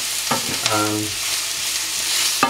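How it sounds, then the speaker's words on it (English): Leeks and onions fry in a pan with a steady, close sizzle, broken by a few soft clicks and scrapes of stirring, with no voices. "the leeks and the onions have been in this pan for a little while now"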